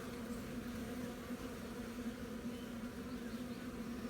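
Honeybees buzzing in a growing hive with frames of brood, a dense steady drone held close and unbroken, with no voices.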